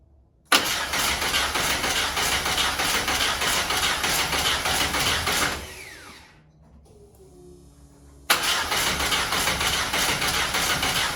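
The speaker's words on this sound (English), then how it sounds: "this is going to be the first start of the 2-liter 8 valve" A 2-liter 8-valve car engine fires up for its first start and runs loud and steady, cuts out briefly to a quiet gap with faint clanks, then catches again and keeps running hard, close by.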